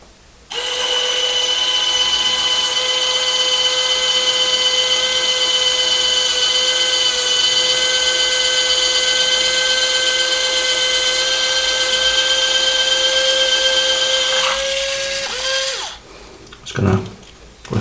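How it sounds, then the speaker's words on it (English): A power drill whines at a steady high pitch for about fifteen seconds, then winds down and stops, followed by a couple of short knocks. "So I'm going to try and drill a hole through that now."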